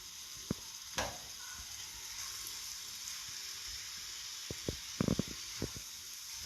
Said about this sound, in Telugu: ఇది 3 యాక్చువల్లీ నెయ్యిలా బాగా ఫ్రై కావాలా.